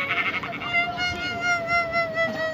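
Goat bleating in a video game, set on a one-block survival world: a loud, wavering, drawn-out bleat carries through most of the stretch, close and prominent, with a second bleat following.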